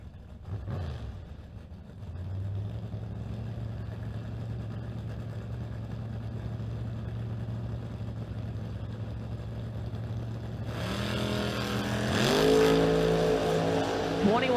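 Drag race cars, a Camaro among them, hold a steady droning engine note at the line before a sudden surge into a loud, rising launch roar near the end.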